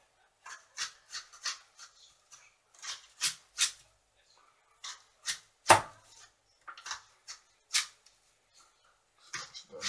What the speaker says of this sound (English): As you can see now, there's the onion. So we have a nice easy method, just slice it down the middle.